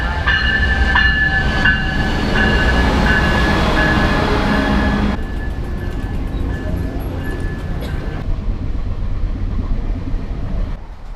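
A Coaster commuter train heading to Oceanside in North County San Diego rumbles past loudly and close, with a steady rolling roar, rail clatter and a brief whining tone, then fades to a lower continuous rumble.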